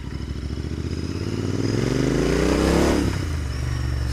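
A Royal Enfield Interceptor 650 twin revs up close, its throbbing exhaust climbing in pitch over a couple of seconds to a loud peak before dropping back, with no voices.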